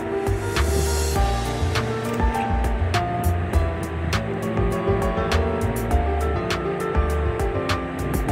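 Water pours steadily into a pressure cooker holding beef for pulao, a continuous rushing splash up close with a few metallic clinks.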